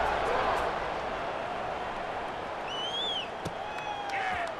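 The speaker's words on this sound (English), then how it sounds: "this crowd is buzzing after that last score" Crowd noise at a college football conference home opener after a touchdown, a steady broad roar of the stadium audience with faint whistles rising above it.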